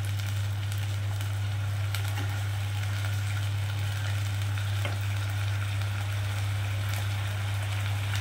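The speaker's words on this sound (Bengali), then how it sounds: "একটুখানি আমি এটাকে ভাজা ভাজা করব, যতক্ষণ না আদা রসুনের কাঁচা গন্ধটা চলে যায় ততক্ষণ একটুখানি নাড়বো।" Ginger-garlic paste fries in a pan with a soft, continuous sizzle and occasional stirring scrapes, under a steady low hum, with no talking.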